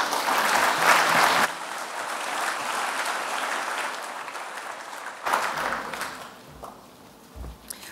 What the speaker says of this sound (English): A round of applause, ladies and gentlemen, for Edwina Hart.